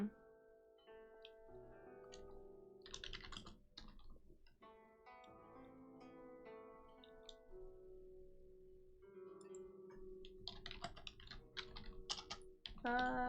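Computer keyboard typing on a livestream, a quick run of crisp key clicks that comes in bursts, fairly close, with tonal background sound running continuously underneath.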